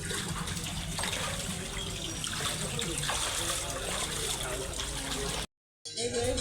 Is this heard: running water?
yes